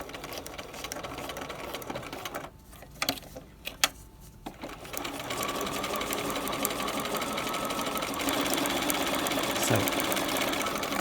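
A sewing machine stitches piping along a V neck, running in a steady, close, continuous whir that stops briefly for a few clicks before starting up again and carrying on to the end.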